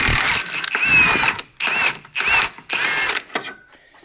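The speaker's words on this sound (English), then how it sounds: "32 millimeter on this lug nut. You can take an impact," Impact wrench working a 32 mm front lug nut on a 2004 Subaru Impreza STi, four loud rattling bursts with short pauses between them, close up and with nobody talking.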